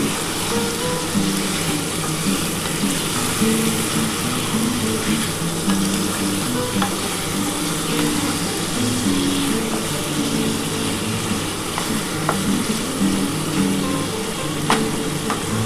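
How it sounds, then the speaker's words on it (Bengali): Chicken pieces frying with masala in a pan for a chilli chicken style dish give a steady, close, crackling sizzle that runs continuously, with faint stirring and no talking. "আমি এই মশলাটা দিয়ে ভালো করে একটুখানি হালকা করে ভেজে নিচ্ছি।"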